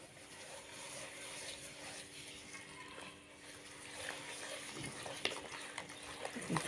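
Ingredients for fekkas dough, with vanilla and a pinch of salt, stirred together in a bowl, a steady close scraping and swishing that carries on throughout, growing a little busier toward the end.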